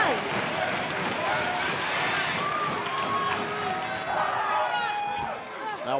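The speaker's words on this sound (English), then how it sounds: "NXT Universe is chanting her on like Tinkerbell with applause" Wrestling crowd at an NXT TakeOver women's title match between Charlotte Flair and Bayley, applauding and chanting as a steady roar of many voices, with commentators talking over it.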